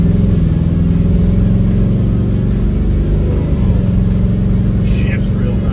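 A 1964 Pontiac GTO convertible pulls away, its engine giving a steady, loud, low rumble heard from inside the car, with someone talking over it.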